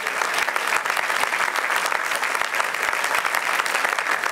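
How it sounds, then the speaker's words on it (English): Graduation ceremony crowd applauding the class of 2008, dense sustained clapping from a large audience, loud and continuous throughout without pause. "How about a round of applause for the class?"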